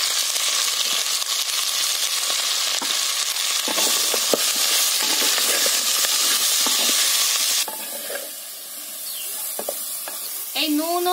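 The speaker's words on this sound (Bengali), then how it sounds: "ফুলকপিগুলো ভেজে নেওয়ার সময় আমি দিয়ে দেব এতে নুন" Cauliflower frying in hot oil with salt and turmeric, a loud steady sizzle close up with scraping stirs, easing off toward the end where a few utensil knocks come through.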